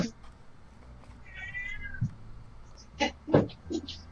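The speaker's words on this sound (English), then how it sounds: "There's the cat." A cat meows several times nearby, a drawn-out call followed by a few short, louder meows near the end, over quiet background.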